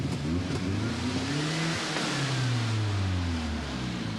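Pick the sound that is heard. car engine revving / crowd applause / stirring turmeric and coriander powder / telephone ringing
car engine revving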